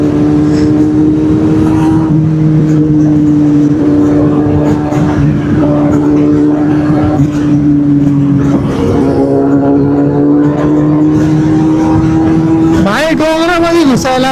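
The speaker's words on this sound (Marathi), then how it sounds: "भैयाने रेस दिली 2 वेळा आणि रेस चालू झाली" A Kawasaki Z800 superbike's engine drones loudly nearby, holding a steady tone with small swells before a sharp rising rev near the end, with heavy wind rush and a rider's voice talking over it.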